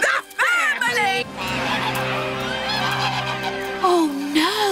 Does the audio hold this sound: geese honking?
yes